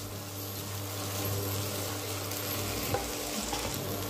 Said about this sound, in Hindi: पोहे को अच्छी तरह से मैं मिक्स कर लूंगी, हमें हल्के हाथ से ही मिक्स करना है